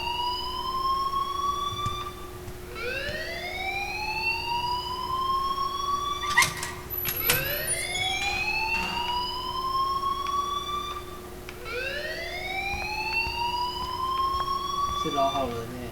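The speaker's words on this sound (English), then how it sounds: "do you hear that fire alarm?" Rising, repeating electronic wails of a fire alarm in a video game, several sweeping cycles over a steady tone with a brief clatter midway, fairly loud and continuous with a voice faintly underneath.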